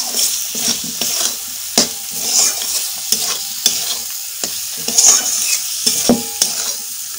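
Chopped capsicum and peas tossed into spiced masala in a pan, stirred with steady scraping strokes and spatula knocks over a bright sizzle, close and fairly loud, with no voices.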